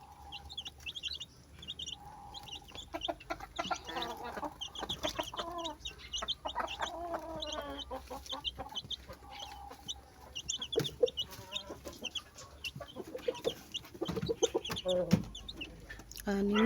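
Mother hen, gray in color, clucking softly and repeatedly beside six week-old chicks that cheep in high, busy chirps, the clucks and peeps overlapping steadily at close range during feeding time.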